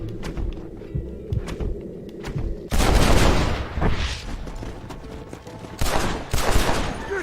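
A shootout in the video game Red Dead Redemption, with bursts of rapid gunfire erupting in clusters between quieter stretches of thumps and footsteps, and the loudest volleys landing close and harsh.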